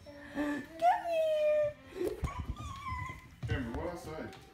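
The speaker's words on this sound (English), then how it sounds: "Puppy." A puppy whimpers and yips in a high, wavering whine near the start, followed by short yelps, while children talk and laugh nearby in a home.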